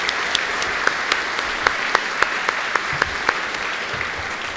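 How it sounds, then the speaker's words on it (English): An audience applauds at a school program, a steady wash of many hands clapping at moderate distance, with a few sharper individual claps standing out. "Let's give them all one more well-deserved round of applause."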